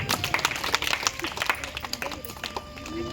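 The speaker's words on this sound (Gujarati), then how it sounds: "કૃણાલી માટે 2 તાળી થઈ જાય" Classroom applause for a student at a school science day celebration, a few seconds of scattered clapping from children amid general room noise, with some voices talking over it.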